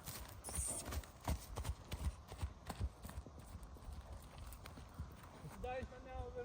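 A horse offered for sale walks with a steady clip-clop of hooves on a hard surface, regular and fairly close, while people talk nearby and a brief higher call rises near the end.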